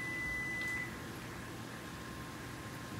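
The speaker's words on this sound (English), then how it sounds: "oh, the microwave went off" A kitchen microwave oven gives one long, steady beep as it finishes while deer-meat hamburger steak and gravy are being cooked. The beep stops and the quiet hum of the room carries on.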